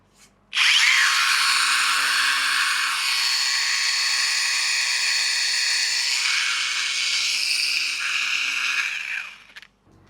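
A cordless angle grinder starts abruptly and runs at a bright, steady, loud whine for roughly nine seconds with slight wavers, then cuts off, with no voices over it.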